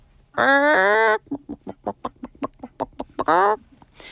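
A person imitates a chicken, loud and close, with drawn-out squawks followed by a rapid run of short clucks and a final squawk, alone with no other sounds.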